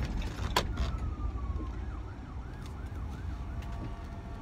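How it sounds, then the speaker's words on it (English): An ambulance siren wails in a repeating rising and falling pattern, moderately distant, over steady road and engine rumble with a brief sharp noise early on. "It's amazing how many people aren't pulling over for this ambulance."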